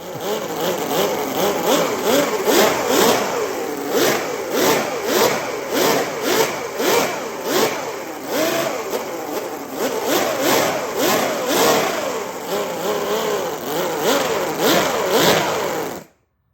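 A miniature 50cc V12 engine running without a radiator, a loud, buzzing, close drone with steady rhythmic pulsing and repeated revs, heard alone for about sixteen seconds before cutting off abruptly.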